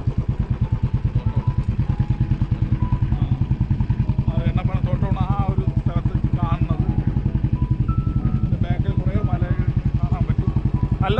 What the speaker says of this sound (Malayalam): ഞങ്ങൾ പതുക്കെ ബൈക്ക് ഓടിച്ച്